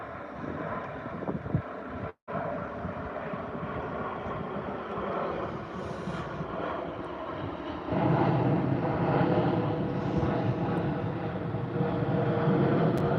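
Steady, far-off jet roar of a Boeing 787 airliner departing Heathrow runway 09L, a broad rumble that swells louder in the second half and carries on without talk.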